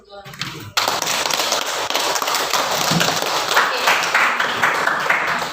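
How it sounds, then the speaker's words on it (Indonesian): A classroom of students at SMA Negeri 1 Halmahera Barat, class X3, breaks into sudden loud applause: dense clapping from many hands starts abruptly and keeps going steadily for about five seconds, close by. "Aplaus dulu"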